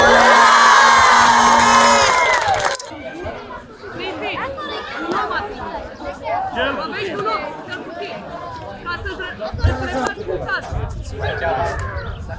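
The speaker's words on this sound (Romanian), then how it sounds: "vreau să strigați ura pentru asta!" Crowd of schoolchildren cheering and shouting hurray at a regional school oină (Romanian bat-and-ball game) competition outdoors, a loud burst of cheers followed by lively shouting and chatter from many young voices.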